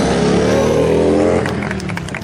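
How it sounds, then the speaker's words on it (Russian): Police motorcycles riding a double-weave formation at a 2011 bike show in Orillia, Canada: a loud, sustained engine roar close by that eases slightly as the riders pass. "Two riders on their motorcycles moving in unison with the double weave."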